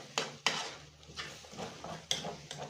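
A spoon scrapes and stirs an onion mixture in a pan for individual rice-and-chicken pastilla, with several sharp clacks against the pan over a steady rustling stir.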